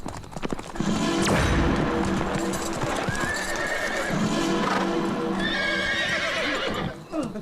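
Horses drawing a royal chariot clatter with continuous hoofbeats and repeated loud neighs and whinnies, up close and unbroken for several seconds.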